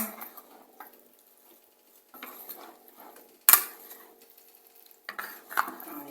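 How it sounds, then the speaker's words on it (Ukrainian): Crab sticks being stirred in a spicy parsley sauce, with a spoon scraping and clinking against a bowl in short, irregular bursts, one sharp knock near the middle, and quiet gaps between strokes. "перемішуємо"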